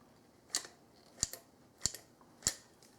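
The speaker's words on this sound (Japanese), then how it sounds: "コーキング剤を打ちます。" A caulking gun with a spring pressure release instead of a release plate dispenses silicone sealant, giving four sharp, evenly spaced trigger clicks close by with no voices.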